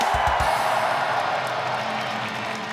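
A large arena crowd in Winnipeg roars and cheers for Chris Jericho's return, a dense, steady wall of noise with a few low thumps at the start, fading slightly toward the end.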